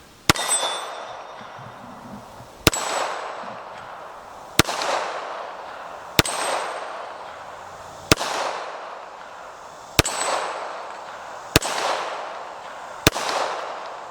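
Springfield Emissary 1911 .45 ACP pistol fired outdoors at a small steel gong: eight sharp cracks, spaced roughly two seconds apart, each followed by a metallic ring and decay, with no talking.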